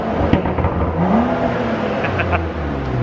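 A modified BMW M2's N55 engine revs hard up close, its roar rising and surging over a continuous growl.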